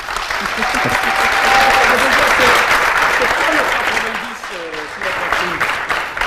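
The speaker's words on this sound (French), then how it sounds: "je demande à mes amis de l'applaudir" An audience at a Toastmasters club anniversary breaks into loud applause that builds, holds, then thins briefly before picking up again, with voices and cheering mingled throughout.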